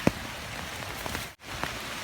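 Rain falls steadily in a forest, a dense close patter of drops on leaves and surfaces with a few sharper individual drip impacts, and no voices.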